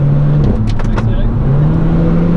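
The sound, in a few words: Renault Clio 4 RS accelerating on the Nürburgring track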